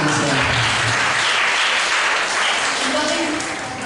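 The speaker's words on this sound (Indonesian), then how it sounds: "Meskipun gak nyambung tapi tepuk tangan untuk Kak Kasih." Applause at a church youth birthday worship and celebration in Palembang, a dense steady clapping that carries on under ongoing talk and tapers off slightly toward the end.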